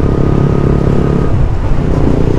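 A KTM Duke motorcycle with an Akrapovič exhaust and its fuel gauge on empty idles with a loud, steady, close engine rumble, no voices.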